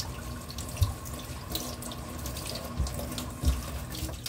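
Water runs steadily from a kitchen tap while food is washed for cooking, a continuous soft hiss and splash with a few faint knocks and clunks in the sink, fairly quiet and without talking.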